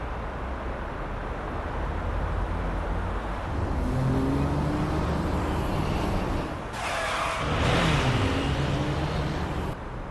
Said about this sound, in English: I can hear tires screeching.